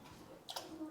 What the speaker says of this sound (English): we put a shot of water down the bottom and we close the door